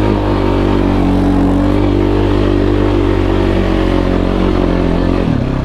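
A 2021 Kawasaki Brute Force 300 ATV engine drones loud and close while riding, with a steady, even tone that holds throughout and dips slightly at the very end.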